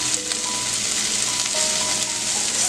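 Turmeric, red chili, garam masala, cumin and coriander powders roast in a pan for a paneer vegetable filling, giving a steady close sizzle with light scraping as they are stirred, and no voices.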